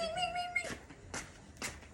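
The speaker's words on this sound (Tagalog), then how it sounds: "Ba't ayaw mali sa akin yung pusa?" A cat meows close by, one drawn-out call followed by a few short bursts, with faint background noise and no talk over it.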